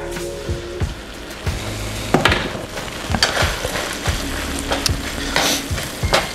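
Beef stroganoff with noodles stirred in a pan, a steady scraping and sizzling churn with clustered spoon knocks and a few louder clatters, close and fairly loud.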